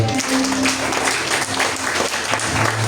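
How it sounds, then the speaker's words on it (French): A church congregation applauds steadily through a Sunday worship service, the dense clapping continuous and fairly close from start to finish. "On va applaudir le Seigneur."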